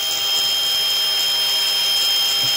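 A power tool runs steadily throughout, sharpening the front side of a blade from a loud hydro transmission, holding a constant high whine with no breaks.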